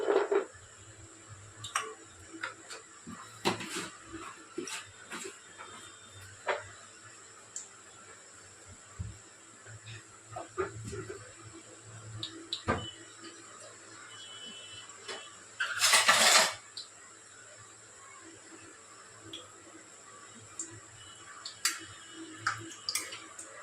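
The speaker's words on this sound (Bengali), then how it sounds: "ঢেকে দিলাম, তেল ছিটকাচ্ছে" Hot oil spatters inside a covered pan while shukto cooks with bori lentil dumplings added. Sparse sharp ticks and pops come irregularly, then a louder sizzling burst midway, fairly quiet and alone.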